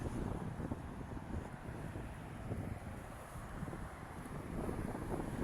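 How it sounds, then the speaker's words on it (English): Heavy wind buffets the microphone in a constant, loud low rumble, with gusty fluctuations and no other clear sounds. "this wind is absolutely insane"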